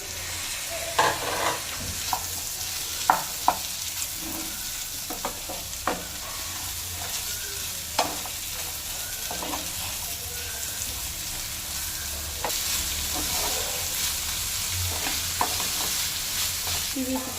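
Capsicum and mixed vegetables stir-frying in a hot pan, a steady sizzle with repeated scraping and tossing clatters from a spatula, close and continuous throughout.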